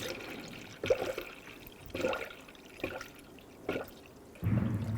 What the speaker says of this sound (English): When it glugs and bubbles like this, that's a good sign.